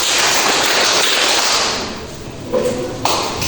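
Many children in a madrasah ibtidaiyah classroom clapping a rhythmic clap-five routine, loud and dense at first, then dying down to a couple of separate, sharp claps.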